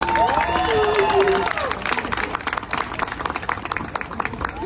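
Loud crowd applause with cheering at a drift battle event after the stage winner is announced, steady clapping throughout with a bright whistle-like tone near the start.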